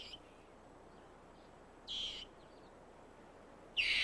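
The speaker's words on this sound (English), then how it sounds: "A loud screech alerts the group to an eagle soaring above" An African rock hyrax on sun-warmed rocks gives sharp alarm screeches: two short, shrill bursts standing out from a quiet background, the second louder.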